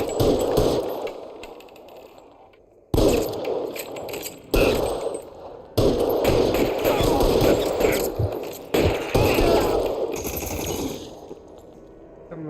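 Machine gun fire in the crime video game L.A. Noire, loud sustained automatic bursts with metallic clangs, broken by sudden gaps and restarts, a voice briefly audible beneath.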